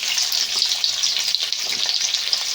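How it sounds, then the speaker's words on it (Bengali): Chopped onions fry in hot oil in a wok, giving a steady, close hiss and crackle with small stirring scrapes throughout and no talking. "কড়া গরম হয়ে গেছে, তেলও দিয়ে দিয়েছি। এখানে আমি পেঁয়াজের পুর তৈরি করব"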